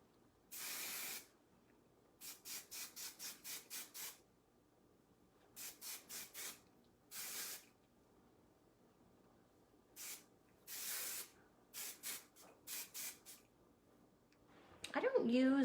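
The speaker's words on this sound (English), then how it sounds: "get my Elevate finishing hairspray" Several bursts of Elevate finishing hairspray from an aerosol can onto hair, hissing in short pulses and longer sprays spread across the clip, fairly close, with a brief voice at the end.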